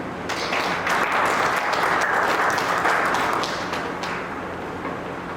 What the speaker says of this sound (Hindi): ताली बजा देंगे।